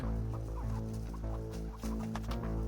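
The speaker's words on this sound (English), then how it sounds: "R.I.P. Rooster, you were poultry in motion." A rooster clucks in a farmyard, giving short repeated calls over a steady low background hum, fairly faint and with no talking.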